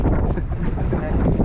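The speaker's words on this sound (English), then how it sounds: "It is so windy right now." Strong wind roars across the microphone beside a creek as a small boat rocks on choppy water, a steady loud rumble with splashing and hull slaps blended into the gusts.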